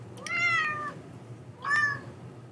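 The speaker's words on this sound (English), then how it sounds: "That is my cat." A house cat gives two distinct meows at close range, a longer one followed by a shorter one after a pause, over a quiet background hum.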